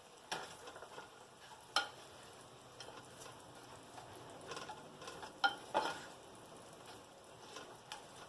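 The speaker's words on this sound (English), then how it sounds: "I'm just going to stir all that up" Hamburger meat fries in a pan with a low, steady sizzle while a utensil stirs and scrapes it in scattered, sharper knocks, fairly quiet overall.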